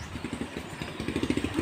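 A motorcycle engine idles close by with a steady, rapid putter and a slight rise in pulsing toward the end, with no voices.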